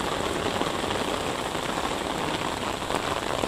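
Heavy rain falls steadily on surfaces around a Hong Kong housing estate, a dense, even hiss with no voices, constant and close throughout.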